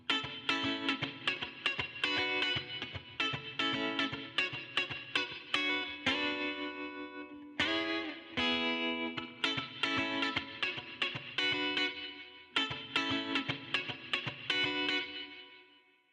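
An electric guitar plays rhythmic strummed chords through Logic's Amp Designer plugin with spring reverb, bright and sustained with a splashy tail after each phrase.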